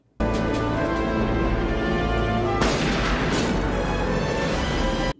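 Gunfire and booming impacts from an action movie scene starring Steven Seagal, loud and continuous, with a sharp burst partway through, dense layered blasts over a music-like score with no talking.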